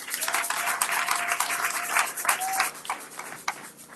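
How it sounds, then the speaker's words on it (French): A church congregation at a worship service applauds, a steady patter of many hands clapping at moderate distance, with a sustained singing or speaking voice running underneath. "Acclamons pour le Seigneur."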